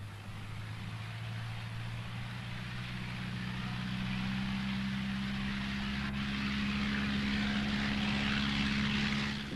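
A de Havilland Tiger Moth biplane flying near the Shuttleworth aeroplane museum, its propeller engine giving a steady, moderately distant drone that swells slightly as it passes, with no voices.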